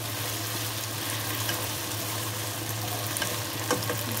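Chicken pieces sizzling as they fry to golden in a pan for chowmein, a steady close hiss with occasional stirring clinks and a low hum underneath.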